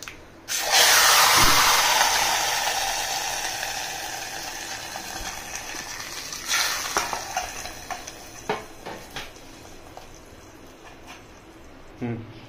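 Tempering for buttermilk curry hisses in a hot pan with a loud burst of sizzle that slowly fades, followed by a few light clinks of a utensil, with a voice talking over it.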